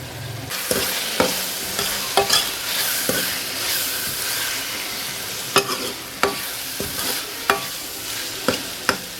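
Minced meat frying in a pan with potatoes, beans and tomatoes, a loud continuous sizzle broken by regular sharp knocks and scrapes of a spoon stirring against the pan, close and without voices.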